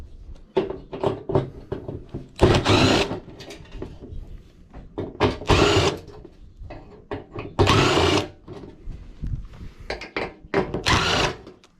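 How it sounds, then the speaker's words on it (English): Screws are backed out of a scrapped gas hob with a power driver, heard as short whirring bursts alternating with rattling and clunking of metal parts, close and fairly loud, with no talk. "we take off the screws on this side"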